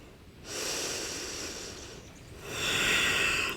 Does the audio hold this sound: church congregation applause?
no